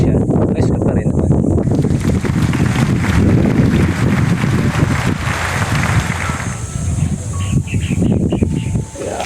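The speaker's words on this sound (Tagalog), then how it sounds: "mahangin siya" Strong wind rushes and buffets the microphone throughout, a loud, continuous roar with gusty surges and no clear speech.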